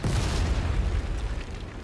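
A dense, sustained rumbling blast fills the moment a machine gun position is blown up in the Flying Circus combat game, loud and continuous with no voices over it.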